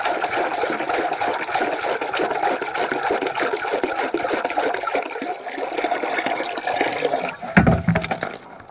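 River water poured from a big tank into a stainless steel bucket outdoors, a steady splashing rush that runs for several seconds, then a brief louder slosh near the end.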